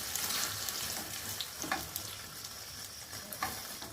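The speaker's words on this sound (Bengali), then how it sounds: "তো এবার একে একে রুটিগুলোকে ভেজে নেব।" Roti frying in oil with beaten egg in a pan, a steady close sizzle with soft stirring and scraping clicks scattered through it, no talking.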